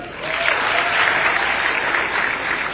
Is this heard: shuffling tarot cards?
no